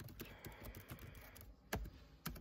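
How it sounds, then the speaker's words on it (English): Computer keyboard keys tapped at a school computer while entering a password, a quiet, close, irregular run of light clicks with a couple of sharper keystrokes near the end. "type my password"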